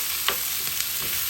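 Gizzard and sauteed onions for suya sizzle steadily in a hot pan, a close, dense frying hiss with faint crackles popping through it.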